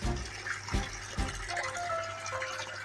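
A 500-watt motor pumps water into a biofloc fish tank, producing a continuous rushing gush of water, steady and close, with a couple of dull knocks early on.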